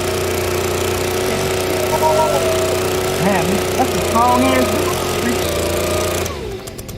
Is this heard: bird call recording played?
no